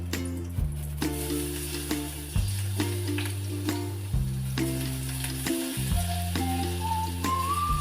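Garlic sizzles and fries in hot oil already spiced with mustard seeds, for a spicy mango karbat, a steady crackle running under loud, sustained background music throughout.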